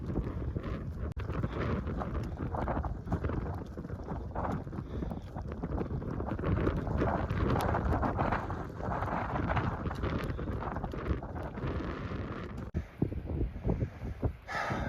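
Strong gusting wind roars steadily through a narrowing mountain valley in the Saskatchewan Glacier basin of the Canadian Rockies, buffeting the microphone close up with no one speaking.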